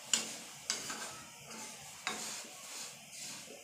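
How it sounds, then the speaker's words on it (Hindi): Sesame seeds for til ladoo are dry-roasted and stirred in a pan, producing faint scraping strokes and a soft, light sizzle in a few separate sweeps. "चार से पाँच मिनट तक इसको भूनना है तकरीबन।"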